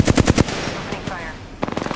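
Apex Legends gunfire cracks out in quick, punchy bursts, a rapid string of shots at the start and another burst near the end, with quieter game sounds between.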